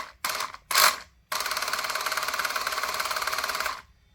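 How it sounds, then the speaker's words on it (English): A clunky plastic pinion gear in a 3D-printed brushless T-Maxx RC truck whirs in two short bursts, then runs in a steady rattling grind for a couple of seconds before cutting off. The sound is close and loud, with no talking. "That is a very clunky gear."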